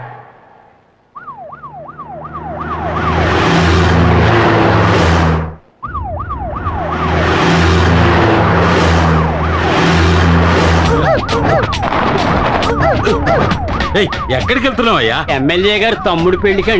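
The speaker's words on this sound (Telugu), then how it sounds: "ఏంటి ఆ సౌండ్? సైరన్ సౌండ్ అండి." A car-mounted siren wails in rapid up-and-down sweeps, loud and close, cutting off briefly and then resuming under an engine drone while people talk.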